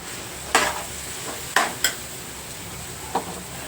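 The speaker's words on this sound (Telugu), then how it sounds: "ఈ గోరుచిక్కుడుకాయ ముక్కలు నేనేం ఉడకబెట్టుకోలేదండి పచ్చివే ఇలానే కడిగేసి వేసేసుకుంటున్నాను" Raw, washed cluster bean pieces tipped into a hot pan and stirred, giving a steady sizzle with four sharp scraping clatters of the spoon against the pan, close and fairly loud, no talking.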